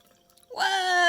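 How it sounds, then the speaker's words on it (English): Water poured into a cup starts halfway through as a rising, ringing gurgle that fills steadily, clear and close after a quiet lead-in. "Let's see what happens when we pour some water into this cup."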